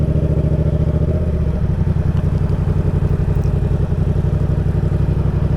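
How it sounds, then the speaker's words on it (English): A motorcycle engine pulls away uphill on clutch and throttle, a loud close idle-like throb that firms up into a steady, rhythmic mechanical chug. "Now I'm holding the bike only using the clutch and the throttle"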